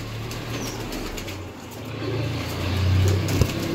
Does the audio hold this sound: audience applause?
no